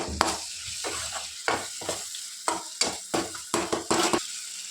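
Softened tomatoes are mashed in a pan for okra curry, a series of rhythmic squelching presses and utensil scrapes, about a dozen bursts with brief pauses between, close up, over a faint sizzle and with no talk.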